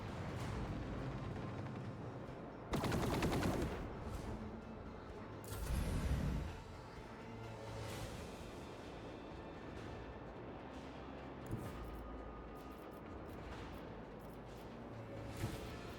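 Arc rifle fire in the video game Darktide, two heavy bursts standing out over a dense, continuous rumble of battle noise, with a few sharper cracks scattered through the rest of the stretch.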